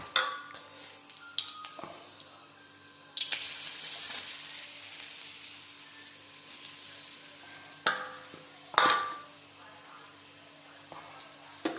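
Grated coconut fries in hot oil in a pan, giving a soft continuous sizzle broken by occasional scrapes and clinks as a utensil stirs it. A sharper stirring clatter comes near the end, with no one talking.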